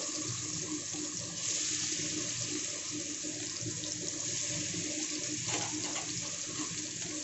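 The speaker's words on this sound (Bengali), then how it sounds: "এখানে তেলটা গরম হয়ে গেছে। আমি এবার মাছগুলোকে তেলের উপরে সাজিয়ে দেব।" Spiced fish pieces laid into hot oil for a masala fish and potato fry, giving a steady, dense hiss that runs unbroken from start to finish at an even level.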